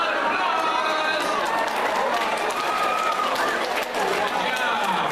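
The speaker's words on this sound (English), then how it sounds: "Give yourself a round of applause." Middle school students at a school show applaud themselves, a dense wash of clapping and crowd noise with chatter and voices throughout, steady and fairly loud.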